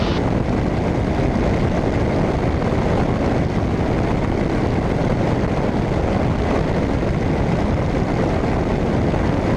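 A light propeller airplane climbs with its engine at full power, a steady, loud, dense drone heard from inside the cabin and unbroken for the whole stretch.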